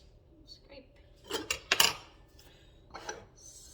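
A utensil scraping against a hot pan while cooking breakfast, a few short clattering scrapes in quick bursts, close and fairly quiet.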